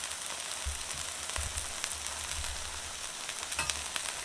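Okra and potatoes frying with onions and garlic in a pan give off a steady, moderately quiet sizzle with soft crackling pops and no voices.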